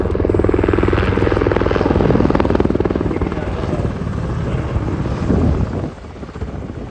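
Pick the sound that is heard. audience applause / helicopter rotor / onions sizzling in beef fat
helicopter rotor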